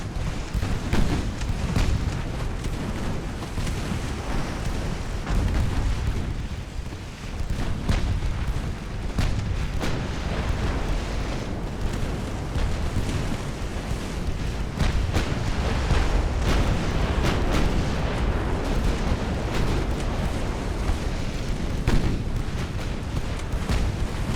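Naval gunfire from many ships in the Ultimate Admiral: Dreadnoughts naval battle game, a dense, continuous rumble of overlapping booms and blasts, loud and sustained with no talk.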